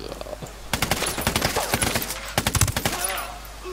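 Gunfire in Ghost Recon Wildlands: two clusters of rapid, sharp shots, the first a longer burst and the second a shorter volley, loud and close against quiet ambience.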